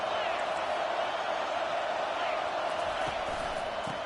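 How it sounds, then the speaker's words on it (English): Steady stadium crowd roar at a football game fills a large space, a continuous wash of voices with faint whoops and thuds mixed in. "This crowd bringing the energy and noise early."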